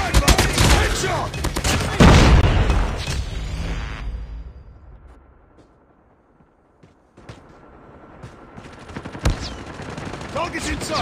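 Rapid automatic gunfire from a Call of Duty multiplayer match rattles in loud close bursts, fades to a near-silent lull, then picks up again with scattered shots and game sounds.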